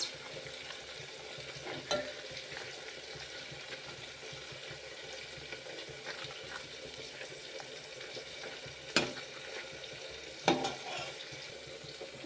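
Papad pieces fry in hot oil with a faint, steady sizzle and bubbling, broken by a few sharp clicks of a utensil, quiet and fairly close.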